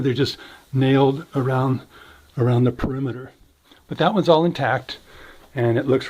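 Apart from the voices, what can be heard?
No everyday noise stands out behind the speech.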